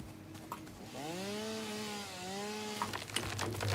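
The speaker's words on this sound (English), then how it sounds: "we have an infinite ability to make more biofuel for our chainsaw" A chainsaw whines steadily in the video game Satisfactory as it cuts down trees, its tone rising and dipping through the cut and then stopping, with no other sound on top.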